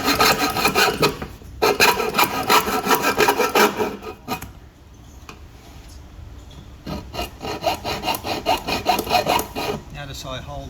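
A hacksaw cutting an angled line through a metal downpipe, fast rasping strokes in a steady rhythm, close and loud, broken by a short pause before sawing resumes.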